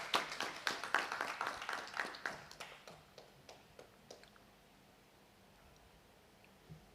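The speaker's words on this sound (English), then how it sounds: "he deserves a very loud applause." A small audience at an oration lecture gives a brief burst of scattered applause, the claps thinning out into a few isolated hand claps before trailing off into quiet room tone.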